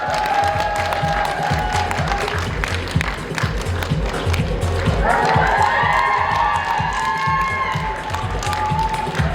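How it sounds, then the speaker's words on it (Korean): Audience welcoming guests onto the stage at an LG CNS art and culture event at DDP with continuous clapping and some cheering, crowd noise swelling midway, with talk and background music mixed in. "큰 박수로 맞이해주시 부탁드립니다"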